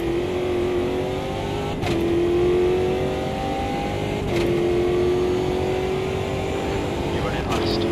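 A stock car engine in the Automobilista 2 racing game roars loudly and continuously at the historic Jacarepaguá circuit. Its pitch climbs steadily and drops abruptly at each of several gear shifts.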